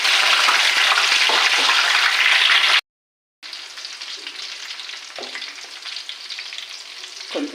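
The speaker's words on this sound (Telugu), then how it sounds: "ఈ ఉల్లిపాయ పేస్ట్ వేస్తున్నాను." Onion paste hits hot oil for a fish curry with fenugreek seeds, giving a loud, steady sizzle that cuts out briefly, then returns as a softer ongoing fry with occasional stirring scrapes.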